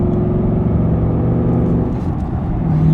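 A Ford Mustang GT with an MBRP 3-inch street cat-back exhaust drones with a deep, steady burble while driving, low harmonic rumble holding constant with a slight rise near the end.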